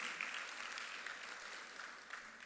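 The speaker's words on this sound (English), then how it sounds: "Can we all give Mr. Higgins a round of applause, please?" Audience at an agri-business investment forum gives a round of applause, a continuous wash of clapping heard from a distance at low volume.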